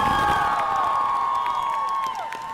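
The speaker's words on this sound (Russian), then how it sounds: "A round of applause for Connor." A Comic Con crowd cheers, whoops and applauds for Connor from Detroit: Become Human, a dense, excited roar of high shouts over clapping that fades slightly at the end.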